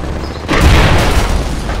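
In the military shooter game Project Reality, a rocket launcher fires and explodes as one loud, close boom with a sudden onset, leaving a rumbling tail over low background noise.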